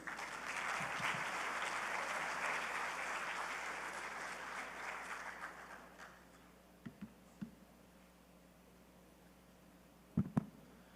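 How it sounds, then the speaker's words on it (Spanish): A room full of people applauding warmly for several seconds, the clapping fading away, followed by quiet with a few faint knocks and thumps. "Los recibimos con un fuerte aplauso."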